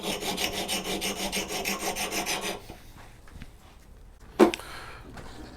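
An axe blade is drawn back and forth in a sharpening jig, giving a steady rhythmic rasping of about a dozen strokes close by, followed by quieter scraping and a single sharp knock.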